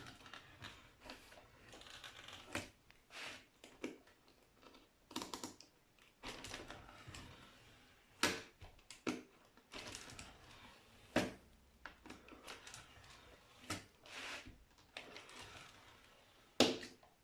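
A Lego baseplate being cut, a faint irregular series of small plastic clicks, snaps and scrapes close by, with no voices.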